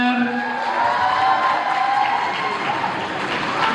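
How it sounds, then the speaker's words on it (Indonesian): A studio audience at an Indonesian singing talent show claps steadily for a contestant, with dense applause and a few cheers under a host's voice. "Fajar, tepuk tangan untuk Fajar."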